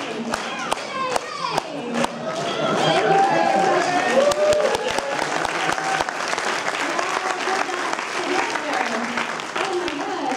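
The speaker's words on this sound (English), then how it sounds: "Thank you all for the claps." At an RTX 2012 convention panel, an audience claps after a few sharp separate claps at the start. Sustained applause follows with cheering voices mixed in.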